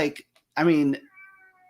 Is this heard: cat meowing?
yes